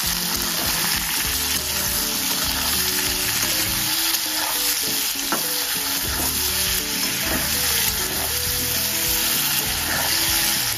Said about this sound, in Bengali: আলুটা 3 থেকে 4 মিনিট ভাজা হয়ে গিয়েছে